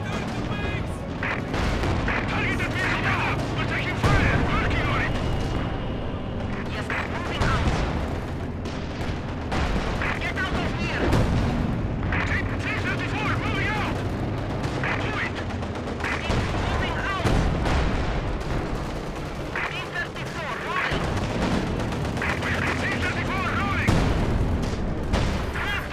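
Sustained battlefield din from Company of Heroes 2, a World War II strategy game with Russian armor, as rifle and machine-gun fire crackle continuously and heavy artillery booms land at irregular intervals. Radio-style unit voices come through now and then.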